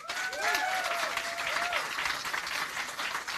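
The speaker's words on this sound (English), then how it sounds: "Please give a round of applause to all the 5 startups" Loud, sustained applause from a crowd at a food-tech startup demo day, steady clapping throughout, with a voice briefly rising over it near the start.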